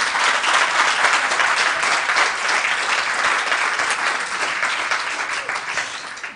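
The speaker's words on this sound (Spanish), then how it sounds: "quiero un aplauso un poquito más fuerte" An audience at a regional health service presentation on circular economy gives a louder round of applause, full sustained clapping that swells early then slowly tapers off.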